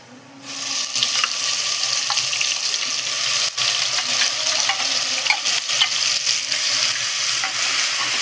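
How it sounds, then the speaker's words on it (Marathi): Ground masala paste fries in oil with a loud, steady sizzle, broken now and then by stirring scrapes and small pops, close up and with no voices. "आणि चांगलं तेल सुटेपर्यंत हा मसाला फ्राय करायचा आहे"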